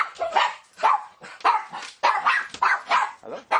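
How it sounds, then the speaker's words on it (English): A dog barks in repeated sharp bursts, about eight barks in under four seconds, loud and close indoors with no talk over it. "I got a dog interruption here."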